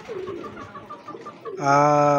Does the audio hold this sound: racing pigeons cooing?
yes